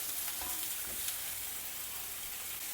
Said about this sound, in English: continue cooking it till the bittergourd is well cooked